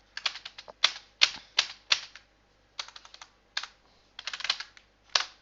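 Java code is typed on a computer keyboard in quick, close bursts of keystrokes separated by short pauses, with no voices over the clatter.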